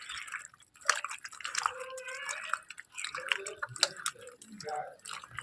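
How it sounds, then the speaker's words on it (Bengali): Mangoes being washed by hand in water, with irregular splashes, drips and trickles close by while someone talks over the sloshing. "এই যে এবার ভালো করে এগুলোকে ধুয়ে নিচ্ছি।"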